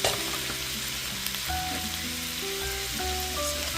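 Corned beef frying with vegetables in a pan, a continuous moderate sizzle under background music with no talking.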